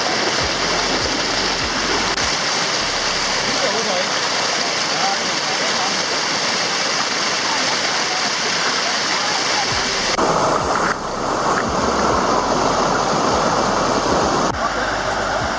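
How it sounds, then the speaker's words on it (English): A hot spring waterfall in Krabi, Thailand pours in a steady, dense broadband rush, loud and continuous throughout, with a brief shift in texture near the end as the flow sounds slightly closer. "Now you can see the beautiful hot spring waterfall from a distance"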